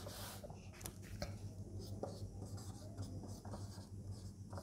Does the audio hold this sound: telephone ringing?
no